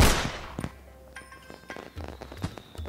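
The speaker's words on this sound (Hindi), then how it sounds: "9:30 का आगाज है और फायरिंग हो रही है" Outdoor New Year night firecrackers and gunfire go off in a loud opening burst, followed by scattered, more distant cracks and pops.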